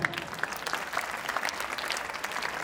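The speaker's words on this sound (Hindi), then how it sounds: "तालियां एक बार।" Audience applause at an annual school prize distribution and cultural ceremony, a steady, moderately distant wash of many hands clapping that holds evenly for a few seconds without talk.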